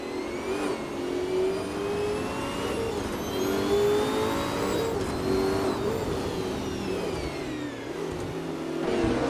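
A 1992 Peugeot 905 race car in a racing video game howls at high revs, its engine pitch climbing and falling through gear changes. The engine is loud and steady throughout, and other cars can be heard faintly.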